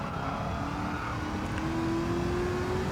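Race car engine in Gran Turismo 7 held in third gear, a steady continuous drone with a slowly rising pitch as it pulls through the corner, loud and without speech.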